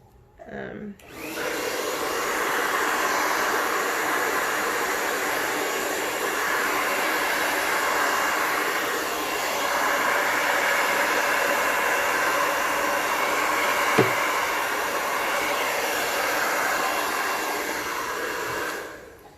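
A hair dryer blows steadily across wet acrylic paint on a canvas, a loud continuous airy whoosh that starts abruptly and holds for the whole stretch with a small click near the end.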